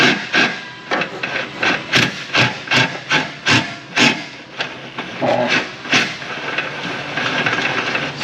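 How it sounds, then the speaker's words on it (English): Prying on the steering system of a 2011 Toyota RAV4 with a knocking fault: a string of sharp scraping, clacking metal-and-wood-like strokes at an uneven rhythm, close and fairly loud, over a steady rough background rumble with no talk. "More prying."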